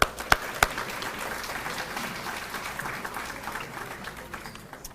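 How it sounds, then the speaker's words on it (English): A sports banquet audience applauds, with a few sharp claps up front settling into a steady, moderately distant patter of clapping that lasts about five seconds. "I think we want to give them a round of applause for that"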